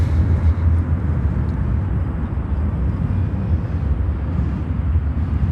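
An EVA Air Cargo Boeing 777 taxis at O'Hare airport, giving a steady, low, distant rumble with some wind buffeting and no voices.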